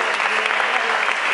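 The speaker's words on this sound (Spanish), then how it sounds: "Un fuerte aplauso, por favor." A crowd at an urban performance event claps for the performers, a brief dense burst of applause that stays loud and steady throughout.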